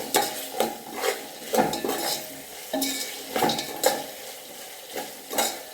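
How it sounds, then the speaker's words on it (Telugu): Ginger-garlic paste being stirred in a cooking pan, a utensil scraping and clinking in repeated strokes over a soft frying sizzle, close and moderately loud with no talking. "ఇలా అల్లం వెల్లిగడ్డ పేస్ట్ వేసిన తర్వాత ఒకసారి మిక్స్ చేసేసుకొని"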